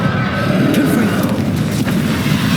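Confringo spell blast in Hogwarts Legacy, a loud, heavy booming burst with rumbling low end, sustained through a short stretch of combat noise.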